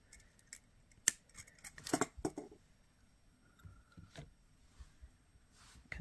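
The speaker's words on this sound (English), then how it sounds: "I am going to cut this end off because it is jagged" A small scissor or wire-cutter snip through a jagged end of thin twisted artistic wire, a crisp click followed by a few quieter clinks and handling rustles, close and faint.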